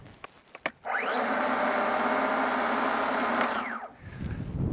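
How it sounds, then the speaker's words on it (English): A VOLTASK 20V cordless electric snow shovel with a 12-inch clearing width spins up after a click, whines at a steady loud pitch for about three seconds, then winds down. "To begin using your snow shovel, press the safety feature button on the side"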